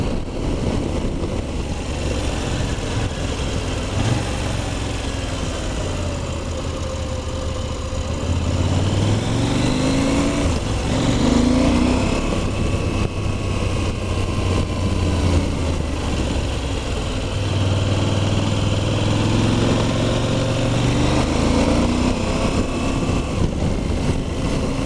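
A KTM 790 Adventure motorcycle engine on a ride through the Haute-Savoie countryside: a continuous, close engine drone with rising and falling revs and wind rush, and no talking.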